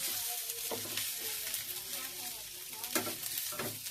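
Ivy gourd and carrot fry in a pan with salt, turmeric and a green chili, giving a steady low sizzle with a few soft scraping stirs along the way.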